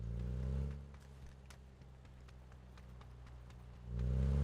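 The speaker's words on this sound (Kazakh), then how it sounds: "Ну, машина работает" A steady, low engine hum drones throughout, swelling louder at the start and end, with faint clicking taps scattered over it.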